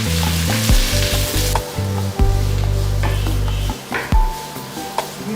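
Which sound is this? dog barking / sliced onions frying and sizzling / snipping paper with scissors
sliced onions frying and sizzling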